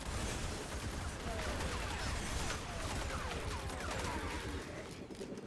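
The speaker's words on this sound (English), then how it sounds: "I don't need headshots with my sidearm. It's shooting missiles anyway." Missile-firing sidearm in the Destiny video game, a dense barrage of rapid shots and blasts continuing loud and steady throughout, with busy game action layered underneath.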